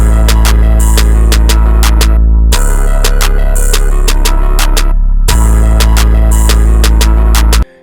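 Heavily distorted 808 bass pushed through an overdriven soft clipper in a trap-style beat, booming loud and sustained under sharp repeating hi-hat and percussion hits, dropping out briefly twice before cutting off at the end.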